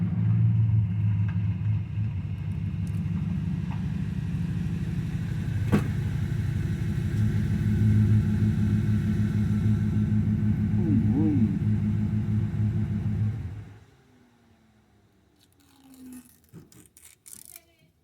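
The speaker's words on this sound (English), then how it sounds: "Sounds like the wife's on her way home. Got the sound of a Hemi." A car with a Hemi V8 arrives, its deep rumble holding steady and loud for over ten seconds before cutting off, followed by quiet with faint movement.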